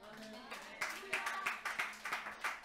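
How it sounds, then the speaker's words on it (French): Light, scattered clapping from a few people at a church sermon, picking up into an irregular run of claps over background noise. "Merci, c'est pas la peine d'applaudir."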